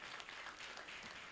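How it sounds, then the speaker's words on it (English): A theatre audience applauds after a presentation, faint scattered clapping sustained briefly at a distance. "Again, a round of applause."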